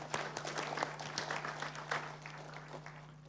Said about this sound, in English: Can we just clap for him again?